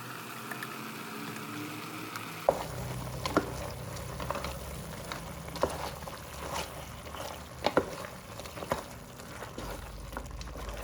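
Roasted ground masala going into mutton already frying in oil for a mutton curry, a low bubbling sizzle that rises after a quiet start, with scattered clinks and scrapes of stirring, close and moderate.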